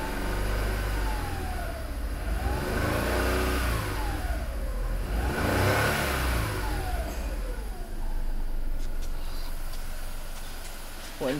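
A 2002 Volkswagen Polo with a 1.2 petrol engine, in a breaker's yard, runs steadily and is revved several times, rising and falling pitch sweeps repeating over a constant engine drone, loud and close.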